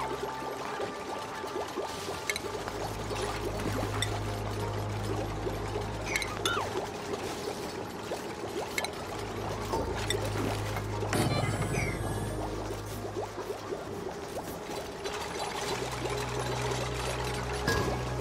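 Water pours and trickles in the Oxygen Not Included video game: a constant splashing flow with low rumbling layers rising and falling underneath, and no talking.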